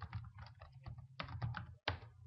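Tab and other keys on a computer keyboard clatter in quick, irregular clicks, close and fairly quiet, with a brief pause before a final sharp press.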